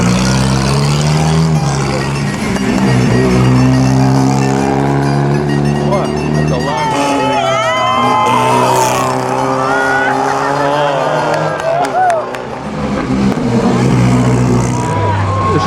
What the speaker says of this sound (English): Here comes this monstrous Mercedes